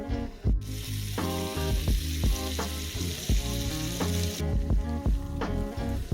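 Strips of food fry in a pan with a loud, continuous close sizzle. Steady background music with clear tonal notes runs underneath the whole time.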